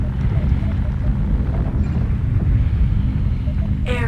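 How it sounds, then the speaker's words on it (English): A MechWarrior Online airstrike lands as a loud, sustained rumbling roar of explosions and blasts, heavy and low, filling the whole stretch with near-constant thunder before a brief voice-like tone cuts in at the very end. "Airstrike protocol active."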